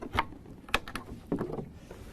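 Dirty water splashes and gurgles as it is poured out of the recovery tank of a Karcher Presto 3 commercial carpet spotter, in a few short close bursts with no talking.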